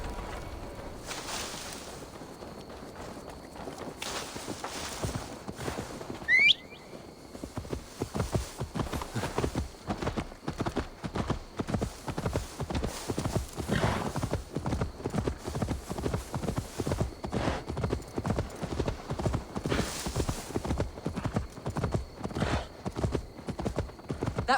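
Horse hooves clip-clop in a steady walking rhythm inside the game Assassin's Creed Valhalla. The hoofbeats are close and even and carry on almost the whole way through, with a brief whinny-like squeal near the start.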